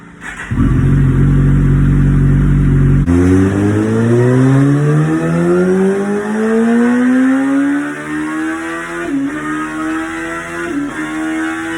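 A turbocharged Kawasaki ZX14R motorcycle on a dyno, running pump gas, roars loud and close: a sharp rise to a high whine that climbs steadily through a long pull, then eases off with a couple of brief dips near the end.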